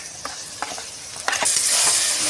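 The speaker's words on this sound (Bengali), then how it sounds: "এইভাবে নাড়িয়ে নাড়িয়ে রসটা মারবো যতক্ষণ না কড়া দিয়ে তেলটা ছাড়ছে।" Pointed gourd paste sizzling in hot oil in a pan, with a few scraping stirs before the frying hiss swells loud and steady.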